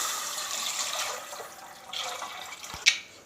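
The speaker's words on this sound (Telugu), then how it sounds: "లైట్గా వేగిన తర్వాత వాటర్ పోసుకుందాం." Water pours steadily into a pan of lightly fried tomato pieces with a bright rushing splash that fades, ending in a sharp clunk.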